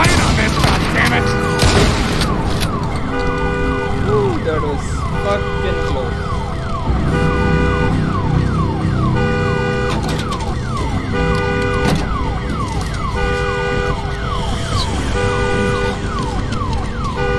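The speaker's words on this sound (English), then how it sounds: "Damn alarm." An alarm siren in the zombie video game Days Gone wails on and on with repeated rising and falling sweeps, loud and close, under gunfire bursts and a voice.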